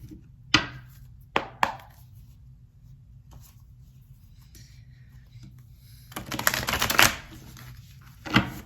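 A few sharp card snaps and riffles of a shuffled tarot deck, close by, with a longer burst of shuffling near the end; quiet pauses between.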